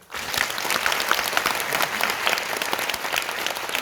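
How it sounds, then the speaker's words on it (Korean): A lecture-hall audience applauds continuously, with thick, even clapping that starts abruptly and holds steady throughout. "박수 한번 쳐주세요"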